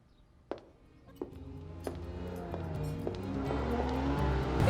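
A car engine rises steadily as the vehicle approaches and drives closer, with a few sharp knocks early on and the rumble growing louder to the end.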